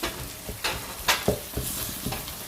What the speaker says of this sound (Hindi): मसाला तकरीबन भुन रहा है।